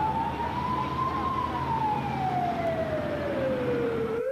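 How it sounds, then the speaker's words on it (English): A single wailing emergency siren during 1998 flooding in Avery and Carter County rises slightly then slowly glides downward in one long sweep, clear and moderately loud over a low rumble of traffic. "sound of the siren sends their hearts racing"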